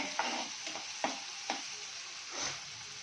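Curry leaves land in hot oil for aloo bonda, giving a quiet close-up sizzle with a few sharp crackling pops and a soft stirring swish near the end.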